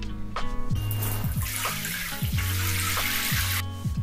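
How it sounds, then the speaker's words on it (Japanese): Water from a shower runs steadily in a home bathroom, a continuous splashing hiss with faint clunks and a low hum underneath, close and unbroken. "お風呂っていうかシャワー浴びました。"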